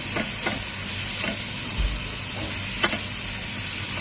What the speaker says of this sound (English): roast the tomato paste for about 1 minute